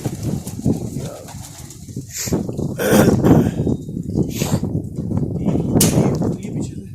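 Sialkoti pigeons coo softly at close range in a loft, with a few sharp flutters and clicks among the low, throaty calls.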